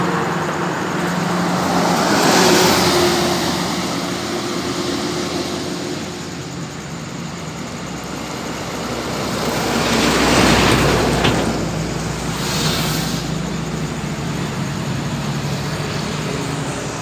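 Intercity bus on a road in Siantar passing by, a broad whoosh that swells and fades twice over steady traffic noise, with no talking.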